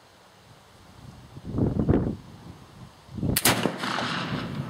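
A flintlock gun fires outdoors in wet conditions: a faint click and whoosh of the priming flash followed by the main shot's sharp, loud report and a rumbling tail, heard over light wind noise.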